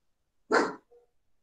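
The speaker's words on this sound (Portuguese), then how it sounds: "Até minha cachorra está aqui deitada, está latindo aqui." A dog lying nearby lets out a single sharp bark, moderately close, followed by a faint short whine in an otherwise quiet room.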